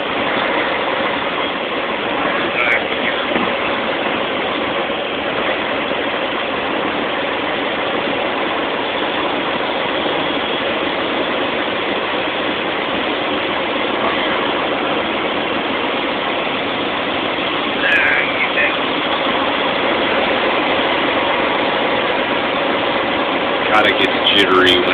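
A truck engine runs steadily in a low gear, a constant broadband rumble and drone throughout with a few brief faint clicks, heard from inside the cab on the road into Dover.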